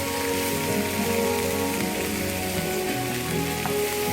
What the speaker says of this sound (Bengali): এটা তেলে একটু কুক হবে, হালকা হালকা ভাজি করে নিই